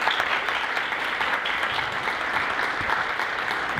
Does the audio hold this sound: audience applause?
yes